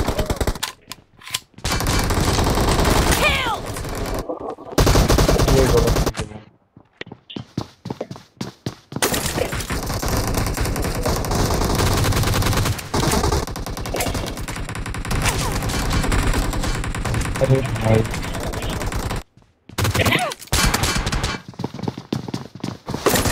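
Gunfire from the mobile battle royale game BGMI crackles in dense, rapid automatic bursts with short pauses between volleys, loud and close throughout.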